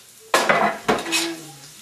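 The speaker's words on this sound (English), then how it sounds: "we are going to saute the garlic" Garlic cloves dropped into about a quarter cup of olive oil in a pan: two sharp clattering bursts of sizzle and utensil contact, close and loud, followed by a quieter settling crackle and faint tonal hum.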